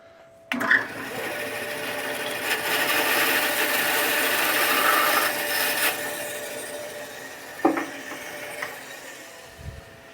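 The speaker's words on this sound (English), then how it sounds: "I'm going to use the bandsaw." A bandsaw cuts wood for a hatchet, starting with a sharp bite and then holding a steady, loud buzzing whine for about five seconds before easing off, followed by a few brief knocks and touches.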